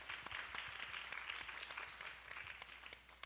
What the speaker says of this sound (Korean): 다들 박수 한번 쳐주시면 감사하겠습니다